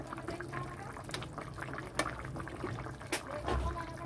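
Tilapia curry with taro and potato bubbling gently in a pot, a quiet, steady simmer with soft liquid gurgles and a few brief louder pops, no voices.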